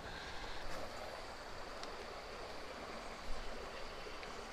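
A small creek rushes over rapids in a steady broadband wash, continuous and moderately close, with no voices present.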